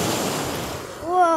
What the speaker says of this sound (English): that's some big carnage waves right now